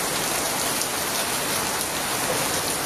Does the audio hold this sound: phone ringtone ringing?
no